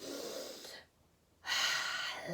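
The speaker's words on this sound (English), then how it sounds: "Deep breath in." A person takes a deep breath in as a breathing exercise, a long airy inhale, then a brief silent hold before a strong, close exhale.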